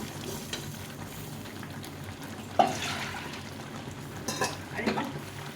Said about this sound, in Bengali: এখন এই সিদ্ধ করা ডালটা দিয়ে দেবো সঙ্গে ভালো করে মিশিয়ে দেবো